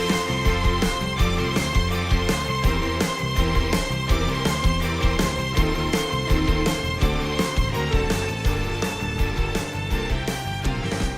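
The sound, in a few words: Floria Fields racetrack music from video game Kirby Air Riders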